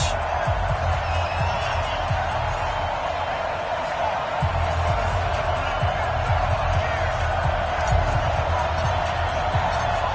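A stadium crowd roars steadily in an NFL football video game matchup between the Chicago Bears and Arizona Cardinals, a loud continuous wash of cheering under a commentator's voice.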